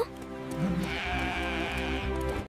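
An animated sheep bleating in a Telugu Bible story cartoon, one long wavering close bleat over soft background music, with no talking.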